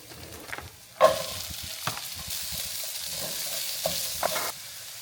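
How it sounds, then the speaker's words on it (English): Masala of garlic, ginger, onion, red chili powder, turmeric, cumin and coriander fries over high heat, a bright steady sizzle under repeated scraping stirs and a loud utensil clank near the start, close with no speech. "Turn up the heat, let the masala fry"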